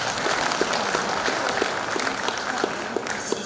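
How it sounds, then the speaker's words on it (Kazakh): Steady applause from an audience at a Kazakh award ceremony, dense and continuous clapping throughout without pause. "Шапалақ үшінші"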